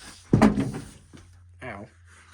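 The door of a 1963 Volkswagen Beetle opens as someone climbs out, a single close metallic clunk and rattle, followed by a brief voice.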